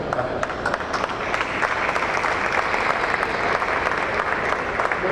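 An audience at an automotive trade fair event gives dense, sustained applause, steady clapping from many hands at a constant level throughout.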